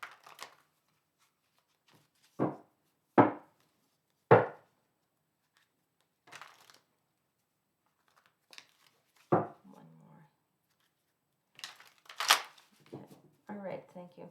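Tarot cards shuffled by hand in short separate bursts of riffling and slapping, loud and close against near silence, with soft talk mixed in.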